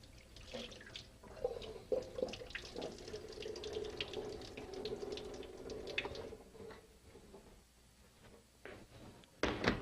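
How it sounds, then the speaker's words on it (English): Water from cooked beans poured off through a strainer into a sink, a steady running gush with clattering handling noises and a few louder knocks at the end. "we're just going to strain off our water."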